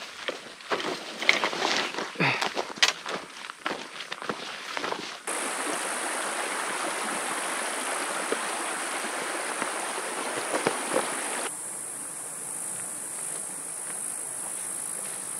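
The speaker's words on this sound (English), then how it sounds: "Reese River is getting deeper, wider, and more swift" The swift Reese River flowing in Nevada's Arc Dome Wilderness, a steady rushing wash of water with brief scuffs and rustles in the first seconds, continuous and fairly close.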